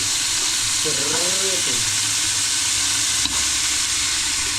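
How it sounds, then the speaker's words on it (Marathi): Pieces of cut goat head drop into a hot pan and sizzle steadily, a loud continuous frying hiss with a brief burst of crackle as they go in, with faint talk in the background. "आता डोकं टाकायचं त्यात कट केलेलं हा आवाज बघा येतो"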